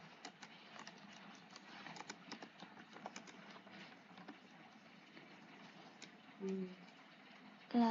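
Commands typed on a computer keyboard while configuring a network switch: a steady patter of light, close key clicks running throughout at moderate level, with a soft background hum and a few heavier taps near the end.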